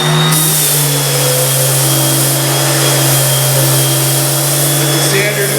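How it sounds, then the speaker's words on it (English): A half-sheet inline power sander running 220 grit sandpaper across a wood veneer panel, giving a steady, loud motor whine with a constant electric hum that holds unchanged from start to finish. "this 220 grit sandpaper on this half sheet inline sander, and this does a very nice job on large expanses of wood like this"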